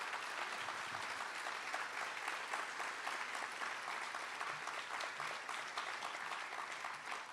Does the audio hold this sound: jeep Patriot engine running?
no